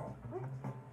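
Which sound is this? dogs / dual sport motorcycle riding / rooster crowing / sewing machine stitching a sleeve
dogs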